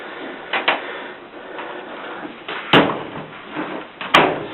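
A clothes dryer door is pushed shut by a child doing laundry, two solid thumps about a second and a half apart, the second slightly louder, amid smaller rattles and soft handling noise.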